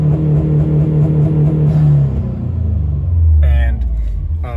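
A Subaru WRX engine held at 4,500 rpm by launch control drones at a steady, loud, close rev, then the pitch shifts and wavers near the end as someone talks over it.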